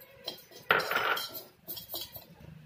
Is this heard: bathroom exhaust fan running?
no